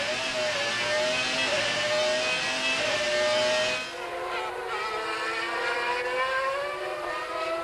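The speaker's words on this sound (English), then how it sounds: "Listen to that Renault engine." A 1995 Benetton Renault Formula 1 car races at the Nürburgring, its engine screaming in a high rising and falling pitch as it accelerates and shifts, loud at first then dropping and climbing again.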